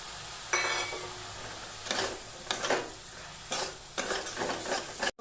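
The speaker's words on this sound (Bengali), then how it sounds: "মাশরুমটা একটু নাড়াচাড়া করে বাকি পেঁয়াজ কুচিগুলো দিলাম।" Stirring and frying mushrooms with chopped onions in a pan: sizzling fills the background while bursts of spoon scraping and stirring come in several irregular strokes, close and fairly loud.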